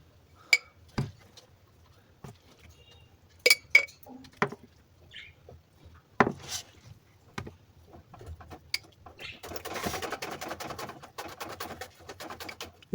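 Ginger mixed with salt and oil goes into glass jars with scattered sharp clinks and taps of glass, then a stretch of soft scraping and rustling, close by and with no talking.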